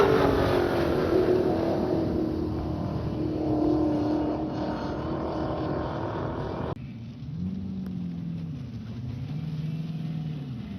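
A four-stroke racing boat engine runs during time trials near Alton Marina, a steady loud drone for several seconds that then drops to a lower, wavering tone rising and falling as the boat passes at a distance.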